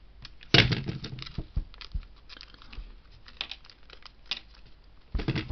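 Plastic bag of screw connectors from a Millennium Falcon model kit being torn open and handled, with a sharp crinkling burst near the start, scattered rustles and taps, then another crinkle at the end, close and fairly quiet.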